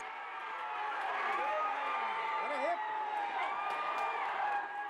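A youth football crowd at an Acre state championship match roars and whoops after a winning goal, a sustained, fairly loud cheer with shouted voices rising and falling throughout, alongside a commentator's voice.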